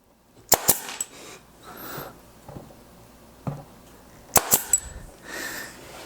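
A 23 gauge pin nailer fires 3/4 inch pins into a wooden floating frame, sharp snapping shots in two quick clusters, near and fairly loud, with quieter handling noise between them.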